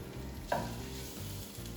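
A chicken quesadilla drops into hot oil with a single soft slap, followed by a steady, quiet sizzle and light frying crackle throughout, with no talking.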